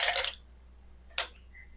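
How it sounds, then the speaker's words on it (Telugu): Ice cubes drop into a bowl of blended mango and vermicelli for mango sharbat: two short, bright clattering bursts, close by, separated by a near-silent gap. "కొన్ని ఐస్ ముక్కలు,"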